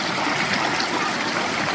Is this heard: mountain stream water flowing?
yes